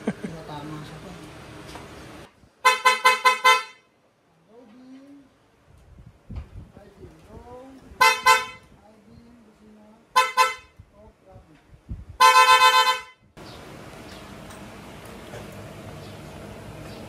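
A PIAA horn fitted to a Honda CB650R motorcycle honks in four sharp, loud bursts, two longer and two brief, with quiet talk and street ambience between them.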